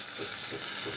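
A splash of water goes into a pan of leafy greens and vegetables cooking for a home-style family recipe, setting off a steady, close, hissing sizzle with no voices.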